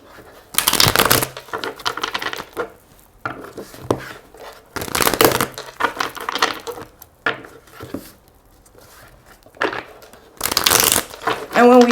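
Tarot cards being shuffled by hand, with three loud bursts of riffling and several softer handling rustles between them, close up, with a speaking voice in places.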